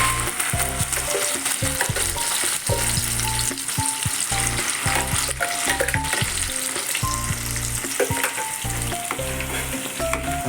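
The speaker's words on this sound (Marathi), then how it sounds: "चांगलं आपल्याला हे तेलात परतून घ्यायचं आहे." Ground masala paste and cut potato fry in hot oil, a loud continuous sizzle with rhythmic scraping and clacking of a spatula stirring through the pan for a Goan oyster gravy.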